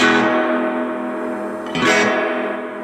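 Chords on a Fender Telecaster through a Fender Blues Jr amp with reverb turned up wash out in a long, dense tail that sustains and blurs together, with a second strum swelling near the end.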